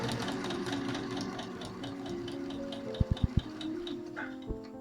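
A domestic sewing machine stitches fabric on a steady, fast mechanical whir with rhythmic needle ticks, then a few sharp clunks as the reverse-stitch lever engages, followed by a final single knock.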